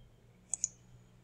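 Two sharp, faint computer mouse clicks in quick succession, close by against a quiet background hum.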